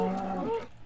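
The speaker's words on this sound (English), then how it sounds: "But first, kill all the cows." A single cow in the Minecraft video game lets out a low, drawn-out moo that fades away after under a second, close and clear with nothing else over it.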